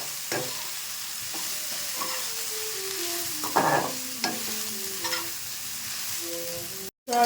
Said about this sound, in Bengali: এই তেলে আমি সয়াবিনটা ভেজে নেব।